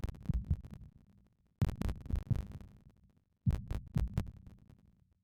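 A heartbeat sound effect in the visual novel Katawa Shoujo II thumps low and muffled in three separate bursts of quick repeated beats, with silence between the groups.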